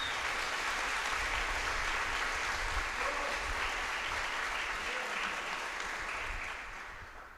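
Audience applause fills a church congress hall, a dense, steady wash of clapping that holds for about six seconds before starting to fade, with no voices over it.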